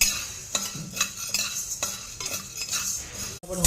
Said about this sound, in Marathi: साबुदाणा थोडासा फुलेपर्यंत भाजून घ्यायचा